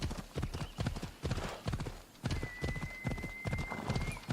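Horse hooves gallop in rapid rhythmic beats in Assassin's Creed Odyssey on Xbox, close and prominent, with a faint whinny-like tone and a sustained high game tone over the later hoofbeats.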